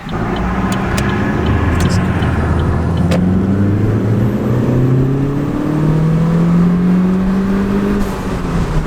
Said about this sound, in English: you just want to hear that sound every time you accelerate